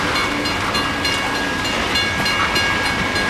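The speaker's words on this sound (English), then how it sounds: "Those hopper cars have some strange noises coming out of them." A freight train's hopper cars roll past close by on a snowy day in Bradford, Pennsylvania, a loud continuous rumble with hissing, squealing metallic brake tones over the clatter.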